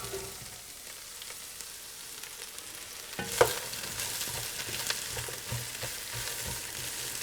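Vegetables and blackening onions fry in hot oil in a pot for seafood stock, a steady close sizzle with a sharper burst as more food drops in partway through, then continued crackling and occasional stirring clatter.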